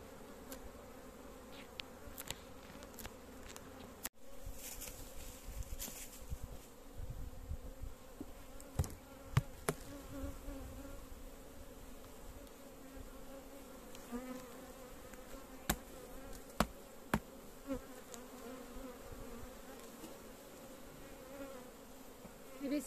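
Honeybees hum steadily around an open hive in a plum orchard setting, a dense continuous buzz with individual bees flying close past the microphone now and then.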